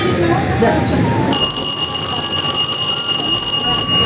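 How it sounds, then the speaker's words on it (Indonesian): A steady electric bell rings continuously with a bright metallic tone, starting abruptly partway through and holding loud to the end. "ketika kami menekan bel, benang yang ada di katrol ini bergerak secara perlahan"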